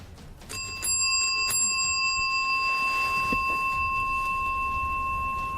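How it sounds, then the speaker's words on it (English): A hand bell is rung a few times, and its sustained bright tone rings on clearly and loudly over low background noise. "He rings the bell a few times to show James that it works"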